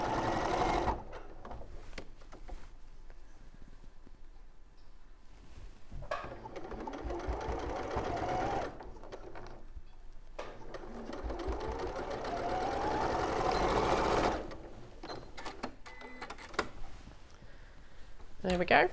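Home sewing machine stitching the seams of a Gracie rabbit soft toy, whirring in several bursts of steady rapid needle chatter separated by pauses, with a person talking quietly between runs.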